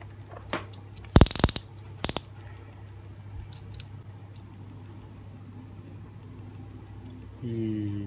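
Metal eel-grabbing clamp tongs snap shut with a few sharp clicks and a quick ratcheting burst up close, followed by quiet handling noise and a hum near the end.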